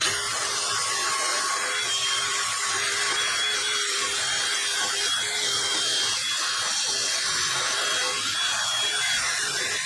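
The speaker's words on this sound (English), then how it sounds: "I'm going to use a wire wheel on a drill to do this." A continuous high-pitched whirring and scratching of a drill-driven wire wheel cleaning a Ford Escape brake rotor, steady and close for the whole stretch.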